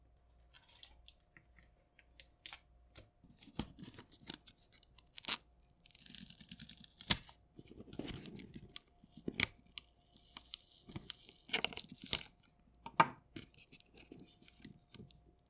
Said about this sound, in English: So I'm gonna attempt to pull all of this tape off and see if it would be in theory possible or not.